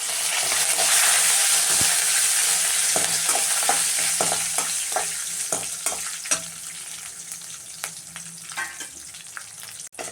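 Cumin, two green chillies and curry leaves fry in hot oil for a wedding-style curd rice tempering. The sizzle is loud and continuous, with scattered clinks of stirring that grow more distinct as the hiss eases.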